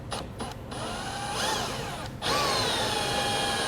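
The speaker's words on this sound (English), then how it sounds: "Line up our bit in the center of our mark." A power drill bores a 1/4 inch hole for installing a Roadmaster Hy-Power diode wiring kit on a 2018 GMC, whining steadily and close, rising in pitch as the bit bites, with no talk over it.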